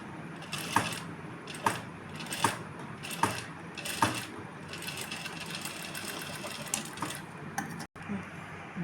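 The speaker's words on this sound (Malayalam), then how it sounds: "അതും നോച്ചിൻ്റെ മുന്നിൽ വെച്ച് സ്റ്റിച്ച് സ്റ്റാർട്ട് ചെയ്യുന്നു." Domestic sewing machine stitching the gathered pleats of a puff sleeve, a close steady mechanical whir punctuated by a few regular louder clunks, then a brief stop near the end.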